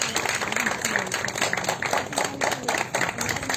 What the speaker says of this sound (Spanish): Un fuerte aplauso para Werboy, por favor